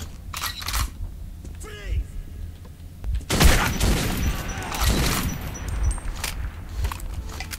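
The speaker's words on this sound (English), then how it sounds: "the shotgun isn't doing anything against them" Shotgun blasts and combat noise in the Metro 2033 shooter, sparse sharp reports early, then a loud chaotic stretch of firing and clatter, with a voice speaking intermittently.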